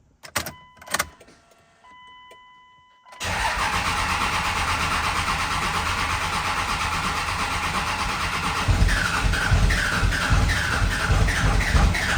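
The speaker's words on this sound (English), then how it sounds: "So now we'll crank it." A diesel engine fitted with a replacement VP44 injection pump cranks with a few sputtering turns after a quiet start, then catches and settles into a loud, steady running idle that grows slightly rougher near the end.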